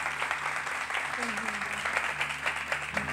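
An audience applauds steadily at a talk on communism and faith, a dense wash of clapping heard at moderate distance, with faint speech underneath.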